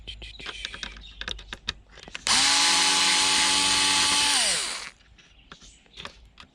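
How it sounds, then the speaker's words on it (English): An electronic screwdriver whirs loudly for about two seconds, backing a screw out of scrap e-waste, between scattered clicks and taps of handling parts and no talking. "makes it so much quicker using an electronic screwdriver"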